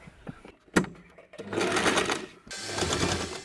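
A sewing machine stitching a necktie runs in short bursts of fast mechanical whirring. Two sustained runs are split by a pause, and a few clicks and handling knocks come before them.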